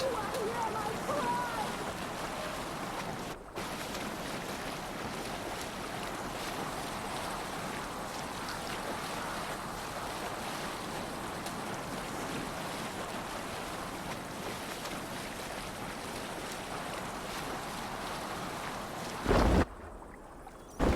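A longship moves over ocean waves in Assassin's Creed Valhalla, a steady broad wash of water and wind that stays even throughout, with a brief louder burst near the end and voices speaking.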